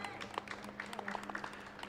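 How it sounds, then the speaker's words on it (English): Light, scattered applause from a modest crowd at a pre-race interview event for the Western States Endurance Run, with a steady low hum running underneath. "round of applause."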